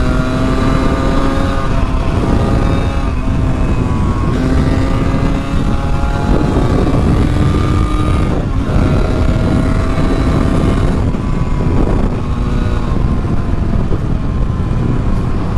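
A 1981 Yamaha RD350 LC two-stroke motorcycle on the road, its engine buzzing in a loud, continuous, raspy drone with a shifting pitch as revs rise and fall, mixed with wind rush throughout.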